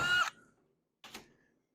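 A power drill drives screws into drywall in two short, sharp whirring bursts separated by a pause, heard up close, with no talk.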